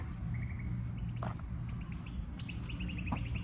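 Several small birds call around a university campus during homecoming, short chirps and repeated tweets sounding from a distance over a steady low background rumble.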